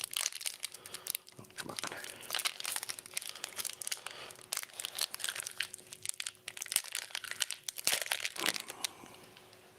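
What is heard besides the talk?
opening trading card packs, wrapper crinkling and tearing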